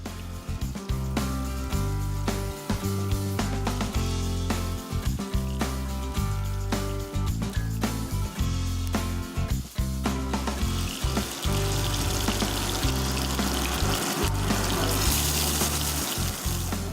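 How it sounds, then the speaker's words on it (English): Continuous crackling sizzle of patties frying in a hot pan, close and steady, with clattering kitchen sounds and music-like tones underneath. "this is what we are looking for, like that sizzling sound."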